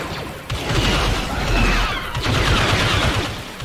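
Gunfire in a video game battle: loud rapid bursts and booming impacts crowd together in two dense waves, with rattling and crashing debris and no voices.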